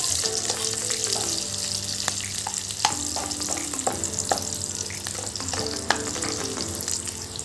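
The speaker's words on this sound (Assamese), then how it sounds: "অলপ আলুখিনি ফ্ৰাই হয়।" New potatoes, cut into quarters, sizzle and fry steadily in oil in a pan while being stirred, a continuous close crackle with small clinks and scrapes, the start of a pork dish with colocasia stem.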